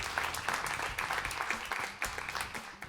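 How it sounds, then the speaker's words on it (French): An audience at a New Year's wishes ceremony applauds itself, with fairly close, brisk clapping from a modest crowd that keeps a lively, uneven rhythm for a few seconds. "vous pouvez vous applaudir parce que c'est grâce à vous"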